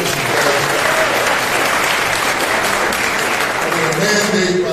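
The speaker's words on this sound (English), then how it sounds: "Can we give them a round of applause first and foremost?" A crowd at a city press briefing bursts into a round of applause, with dense, steady clapping that is loud and close and holds for several seconds without a break.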